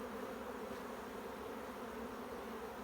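Angry bees swarm around a beekeeper as they sting, a steady, dense buzz that stays constant and fairly faint with no breaks.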